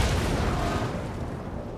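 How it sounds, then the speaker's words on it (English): Heavy naval gunfire from an enemy Cleveland cruiser in World of Warships, a loud rumbling boom and crackle of shell impacts at the start that slowly fades into a dull roar. "we get caught by the enemy Cleveland's fire"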